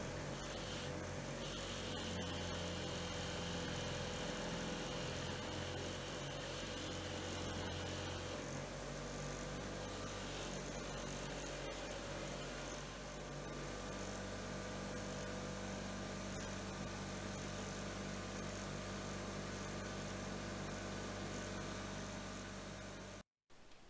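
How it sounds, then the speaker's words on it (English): A steel adjustable wrench being polished on a spinning wire wheel gives a steady, faint whirring hum with a constant grinding hiss throughout, and no talk. "Last step is to give everything a polish on the wire wheel."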